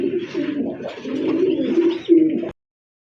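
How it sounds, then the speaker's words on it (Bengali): A large pigeon coos close by in a few low, throaty rolling phrases, loud and alone, ending abruptly. "মাশাআল্লাহ, দেখেন বিগ সাইজের একটা কবুতর দেখতে পাচ্ছেন মোবাইলে"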